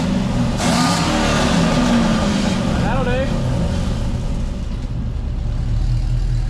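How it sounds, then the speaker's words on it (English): A car with a full twin 3 inch exhaust, valves closed, revving briefly over a steady rumble, with people talking nearby. "all right, so give the car a little rev."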